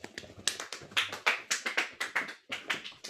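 Hands clap in quick rhythmic bursts, close and crisp, mimicking the galloping beat of hooves with a brief pause before resuming.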